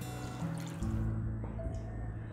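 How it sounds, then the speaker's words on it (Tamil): Water poured into a cooking pan in a home kitchen while tamarind curry is being made, a soft, close trickle and pour with a brief splash. "கொஞ்சம் தண்ணி விட்டுருங்க."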